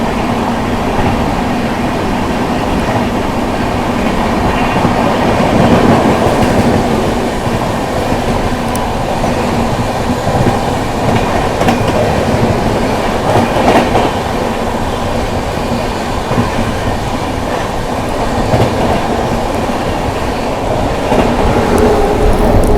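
The Prayagraj Express passenger train rolls at high speed past another express on a parallel track, a loud, sustained rumble with rhythmic clickety-clack of wheels over rail joints and no voices.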